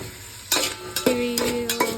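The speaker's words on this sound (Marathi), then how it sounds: "तुपामध्ये ते केळी परतून घेते केळी छान परतू देते" Bananas sauté in ghee in a pot, with a low frying hiss broken by several sharp ringing clinks of a spoon against the metal pot over two seconds.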